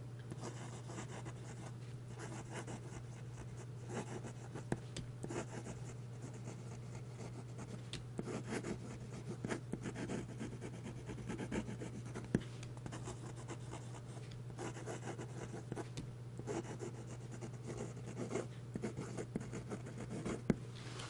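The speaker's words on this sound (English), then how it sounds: "Now for a bit of fast writing." Fountain pen nib of a Wing Sung 698 scratching quickly across paper in fast handwriting, a steady close-up scratch with brief pen lifts and a constant low hum underneath, no talk.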